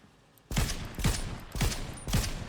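Four evenly spaced gunshots from a weapon in the Fortnite video game, each a sharp, close, fairly loud crack with a short tail, with no talking.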